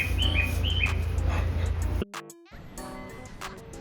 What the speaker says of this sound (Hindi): ये कितना बड़ा कौवा है।